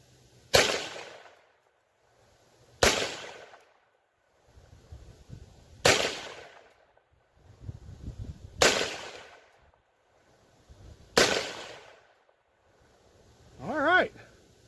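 Five sharp gunshots from a BCA Bear Creek 10.5 inch .22 Magnum upper, evenly spaced about three seconds apart, each a close, loud crack with a short tail, with faint rustling and a brief voice near the end.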